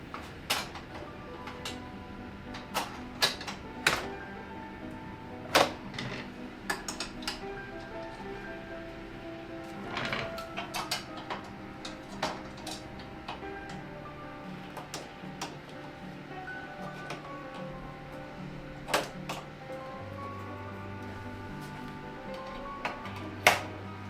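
A knitting machine's main carriage with the ribber attached slides across the needle bed to reset the needles, giving a run of mechanical clicks, ticks and rattles with low rumbling sweeps, fairly close and steady at moderate level.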